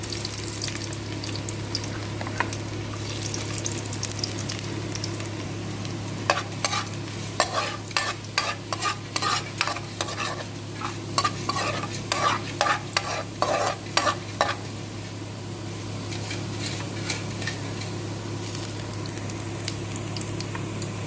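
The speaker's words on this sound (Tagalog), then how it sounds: "Ayan na guys, isunod ko yung bawang." Garlic sautés in hot oil for a chicken and green bell pepper dish, giving a steady sizzle. A burst of clattering stirring strokes runs through the middle stretch.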